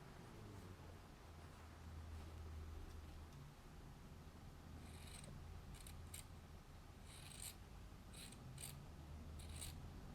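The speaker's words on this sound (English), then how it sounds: "So I'll just cut that with the scissors." Sharp scissors snip through quilt binding fabric in several quick, faint cuts, clustered snips coming in bursts against a quiet room hiss.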